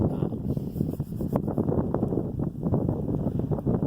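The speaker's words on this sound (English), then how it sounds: "wait for the wind to die down." Wind buffeting a microphone outdoors, a steady loud rumbling roar with gusty fluctuations throughout and no other sounds standing out.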